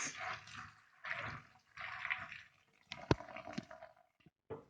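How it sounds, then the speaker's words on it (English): Tap water is poured over soaked beans being washed and drained for Nigerian tofu, coming in several separate sloshing bursts with short pauses and a sharp knock partway through. "add more water to it and discard the water"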